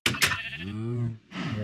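A sheep in Minecraft gives one drawn-out bleat at close range, then a short second call.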